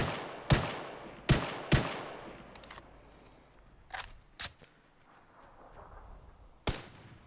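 Gunfire in the battle royale video game PUBG: several sharp, separate shots crack out at irregular intervals, some in quick pairs, against a quiet background.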